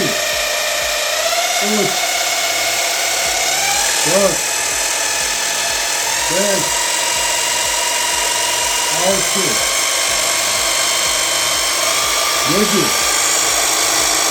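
A ÇAYKES tea harvesting machine running at top speed of seven, 4500 rpm, giving a steady high-pitched motor whine close up, while someone speaks over it in short phrases.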